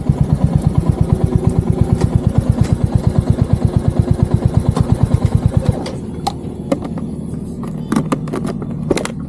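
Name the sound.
Royal Enfield Hunter 350 motorcycle engine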